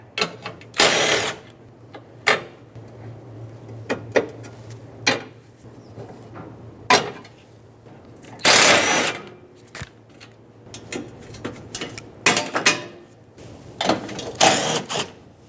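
Hand tools clatter as 10mm bolts come off the bumper bracket of a 2012-2018 Nissan Altima, with sharp ratchet clicks, metallic clinks and short bursts of rattling scattered unevenly, close and fairly loud, over a steady low hum, with no talking.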